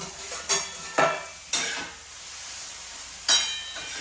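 Paneer goes into a hot pan and fries, with several sharp clattering knocks as pieces are dropped and stirred over a continuous close sizzle.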